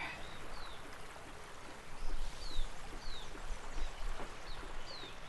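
Acrylic paint pours onto a surface in a faint, steady trickle, with a few soft bird chirps in the background of an otherwise quiet room.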